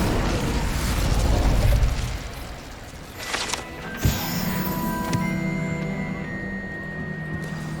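Incendio fire spell in Hogwarts Legacy: a rumbling start, then two sharp bursting blasts a moment apart, followed by lingering ringing, crackling magical tones that slowly settle.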